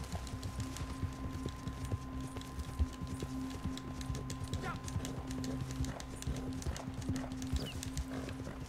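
A horse gallops in the Western video game Red Dead Online, its hooves clip-clopping in a quick, continuous rhythm over a low steady hum at modest volume.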